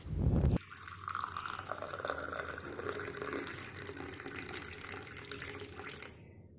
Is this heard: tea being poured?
yes